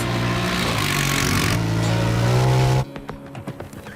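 Loud Honda Pioneer 1000 Deluxe Crew utility vehicle engine revving up to a high, sustained roar, then cutting off abruptly and dropping to a low idle with a few short blips.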